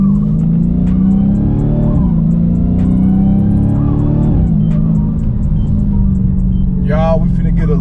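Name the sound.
Dodge Challenger SRT Hellcat car driving on road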